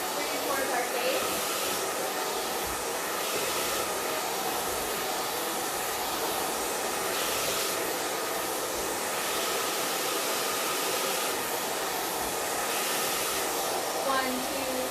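A hair dryer blows steadily and loudly throughout while hair is dried with a paddle brush, a continuous close whooshing roar.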